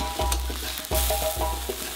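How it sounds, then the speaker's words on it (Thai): Curry paste sizzles and is stirred in a hot pan, with a steady close frying hiss broken by repeated scraping strokes of the spatula. "เราน้ำพริกแกงใส่กระทะเราก็จะผัดให้หอม"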